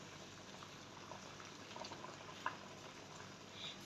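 Steady bubbling of boiling water fills the clip, a continuous low simmering hiss with a few small pops and clicks, close by and moderately quiet.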